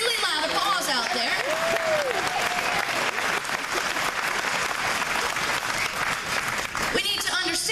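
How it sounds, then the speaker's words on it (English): An audience applauds at a talk, a sustained patter of clapping hands with some crowd noise mixed in, lasting several seconds before tapering off. "that should have been a really loud applause out there"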